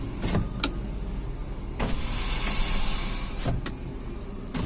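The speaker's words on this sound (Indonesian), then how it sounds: "Power window sangat lancar sekali ya." Power windows running in an automatic Toyota Calya G, a smooth steady motor whir with clicks and thumps as each window starts and stops, close inside the cabin, no talking.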